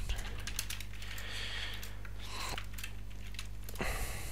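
Light tapping on a computer keyboard, a few soft irregular clicks over a steady low hum, fairly quiet and with no voices.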